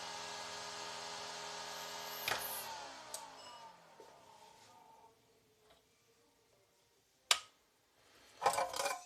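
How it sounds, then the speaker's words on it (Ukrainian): A steady fan whirring hum with tonal harmonics runs for a couple of seconds, then winds down and fades, followed by a few sharp clicks and clatter. "Вентилятор трохи речить, звісно,"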